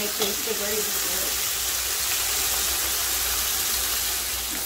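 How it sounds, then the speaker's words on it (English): Fish stew base for Guyanese-style American red snapper frying in oil: a dense, steady sizzle and crackle fills the clip, loud and close, with a voice briefly heard near the start. "you see how this is dry, frying on my oil?"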